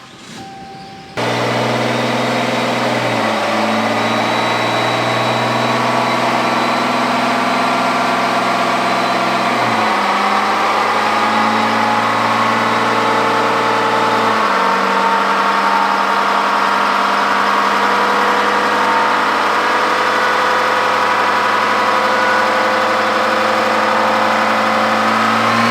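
A fourth-generation 6.7L Cummins diesel runs on a dyno, a loud steady engine drone that starts abruptly, steps up in pitch several times as it is pushed harder, and holds near and continuous with no talking.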